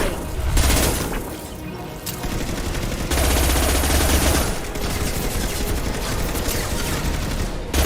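Sustained automatic gunfire and heavy explosions from Mass Effect 2 combat, loud and continuous with dense rattling bursts and booming impacts throughout.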